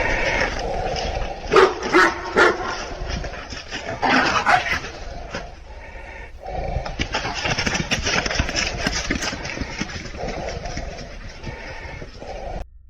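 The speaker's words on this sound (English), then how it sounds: "When the dog finally charges, barking wildly" A dog barks in a backyard, several loud, sharp barks early on, mixed with a running engine's rumble and noisy clatter that continues throughout.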